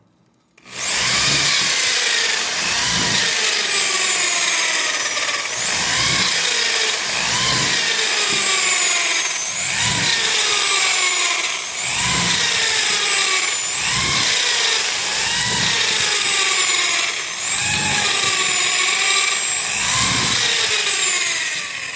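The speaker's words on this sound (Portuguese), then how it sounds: "Eu vou furar até chegar nesse último risco aqui, ok?" A power drill bores a row of holes into the base of a basket, its motor whining up and down in regular cycles about every two seconds, loud and close, with no talking.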